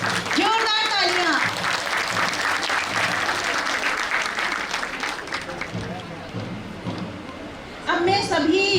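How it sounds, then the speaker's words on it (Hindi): Loud, sustained applause fills a hall at a Women's Day event run by a women's social organisation, dense clapping continuing for several seconds while voices call out over it near the start and end. "जोरदार तालियां।"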